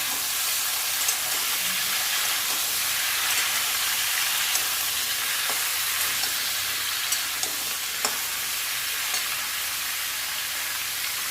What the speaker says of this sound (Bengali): এবার দিয়ে দেবো কাঁকরোলগুলো, দিয়ে একটু ভাজা ভাজা করে নেব